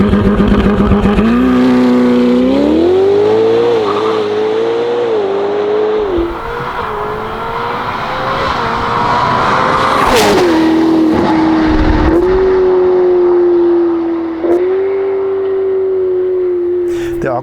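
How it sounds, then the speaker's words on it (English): A Novitec Ferrari F8 Spider, 802 hp, with a sport exhaust system, revs hard in long, sustained pulls, its engine note rising and falling and then holding high, loud and close, with a sharp crack near the middle. "this car has been fitted with a sport exhaust system"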